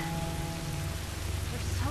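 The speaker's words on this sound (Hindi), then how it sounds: "बारिश तो रुकने का नाम ही नहीं ले रही." Steady rain pours in the video game The Last of Us, a dense continuous hiss of drops on surfaces with a low rumble underneath, even and unbroken throughout.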